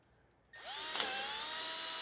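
A battery-powered drill in low gear tightens a nut, starting abruptly after a quiet moment and running steadily with a rising whine that settles into a sustained, fairly close mechanical drone.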